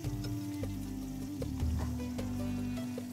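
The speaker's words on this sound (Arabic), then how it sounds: "بنحمر البصل بنحمر الثوم ورا بعض" Onions frying in oil in a cooking pot for a prawn biryani, a steady close sizzle with faint clinks of stirring, no talk.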